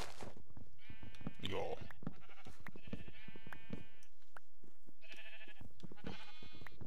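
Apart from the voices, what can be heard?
sheep bleating in Minecraft Pixelmon video game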